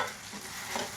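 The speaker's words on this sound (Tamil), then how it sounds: "இந்த பூசணிக்காய் நறுக்கி வச்சு தான் போட்டுக்கலாம்" Chopped pumpkin sizzles in hot oil while being stirred: a steady crackling fry with scraping stirs, close and fairly loud.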